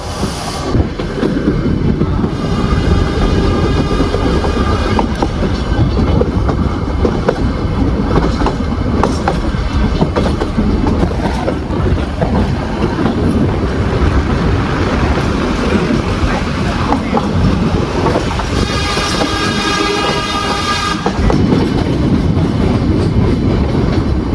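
The Nilgiri Mountain Railway toy train near Ooty rumbles steadily along the rails in monsoon season, with constant clattering and rolling noise, loud and close, running without a break throughout.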